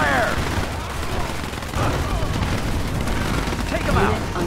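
Gunfire and explosions in Command & Conquer 3 Tiberium Wars crackle in dense, overlapping bursts over a booming battle din, with game voices calling out through the fighting.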